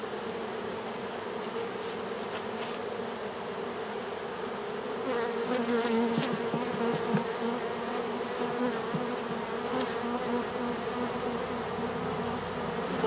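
A dense, steady hum of many honeybees buzzing inside a hive box during a colony cut-out, continuous and close, with occasional faint knocks and no talking.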